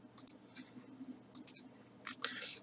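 Computer mouse clicks while paging through an interactive invoice, a few faint, sharp, close clicks spaced irregularly over quiet room tone.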